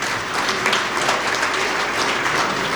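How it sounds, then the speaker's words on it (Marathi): Crowd applause at the inauguration ceremony of a Manorama Bank branch in Vairag, steady and dense clapping from a large audience sustained throughout. "सगळ्यांनी टाळ्या वाजवून त्यांचं स्वागत करा."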